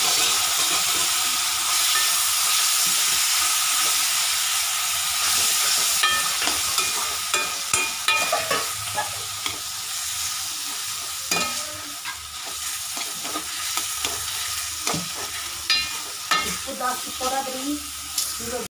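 Chopped tomatoes being stirred and fried into a Tamil-style potato sabzi, a steady loud sizzle throughout with repeated scraping stirs and clatter from a spoon against the pan, no voices.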